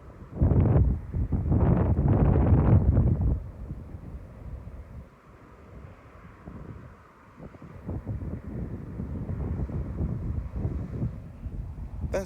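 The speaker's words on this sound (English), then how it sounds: "I like the way that these dry bushes are blowing in the wind." Wind blowing through dry bushes outdoors, heard as rumbling gusts buffeting the microphone, strongest at the start, dropping to a softer low roar and then building again.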